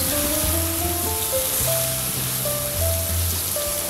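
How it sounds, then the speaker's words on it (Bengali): Cubed onions and green chillies frying in a pan for a pepper chicken dish, a continuous close sizzle with a low steady hum beneath and no talk. "ভুনতে ভুনতে এই পেঁয়াজ মরিচগুলো"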